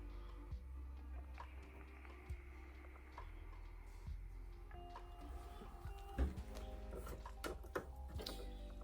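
A sewing machine stitches along the seam of a gathered cropped top, a quiet, steady mechanical whir and ticking that runs throughout with a few sharper clicks near the end.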